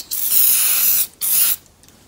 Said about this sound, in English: Quick spray with some lubricant just to take away the nasty squeakiness.